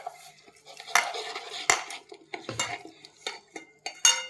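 A spoon clatters and scrapes against a bowl as pumpkin flower fritter batter is mixed with small additions of water, in a quick series of close, uneven knocks and wet stirring sounds.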